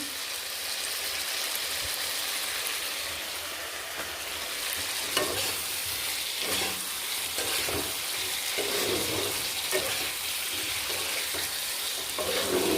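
Chicken pieces being sautéed (kosha) with spices and garam masala in a pan for a Bengali chicken curry, giving a steady close sizzle and frying hiss with intermittent scraping and stirring clatter from a spatula throughout.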